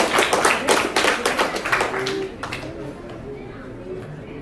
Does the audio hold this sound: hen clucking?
no